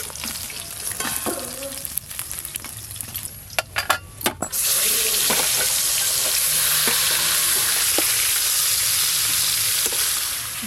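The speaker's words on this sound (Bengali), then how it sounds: "এই যে মাছের পিসগুলো বেশ ভালো করে ভেজে নিয়েছি।" Pieces of rupchanda fish fry in oil. A few sharp clinks and scrapes are followed by a sudden loud, steady sizzle that fills the rest of the clip.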